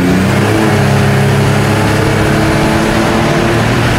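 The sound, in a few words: turbocharged 3.8 engine accelerating in car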